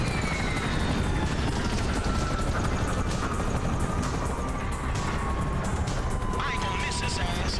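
Helicopter in the Grand Theft Auto V video game: a continuous rotor roar during a chaotic shootout, mixed with vehicle noise and crashing, with a faint whining tone gliding downward.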